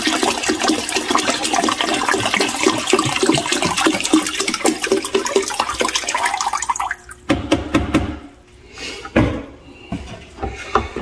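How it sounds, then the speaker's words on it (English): Chromex descaler solution is poured from a container into a bucket while descaling a tankless water heater, a steady close gush that sputters and glugs in the last few seconds as the container empties. "I'm going to take and pour all the contents of this"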